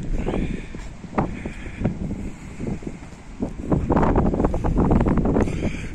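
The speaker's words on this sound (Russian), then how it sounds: "Жалко, что ветер, конечно." Wind buffets a handheld camera microphone outdoors on a stormy seaside day in Arkhipo-Osipovka, a steady low rumble with gusty surges that swell louder toward the end.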